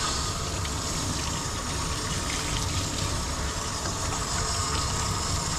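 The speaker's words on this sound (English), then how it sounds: "now that he's been scrubbed with regular shampoo and he's clean, we're gonna rinse." Running water gushes steadily and loudly as a shampooed dog is rinsed, a continuous close spray without pauses.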